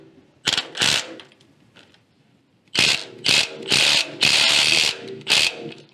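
Ratchet loosening 15/16 and 3/4 bolts on the valve chest of a David Brown 990 tractor: a couple of short clicking bursts, a pause, then a run of louder, rapid ratcheting bursts close by.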